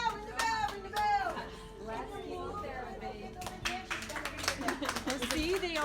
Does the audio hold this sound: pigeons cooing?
no